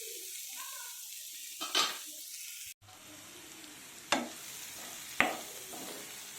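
Onions and tomatoes fry in a pan over a medium flame for a Telugu lobia (bobbarlu) curry, giving a steady soft sizzle, with a few sharp stirring scrapes and clinks and no talk.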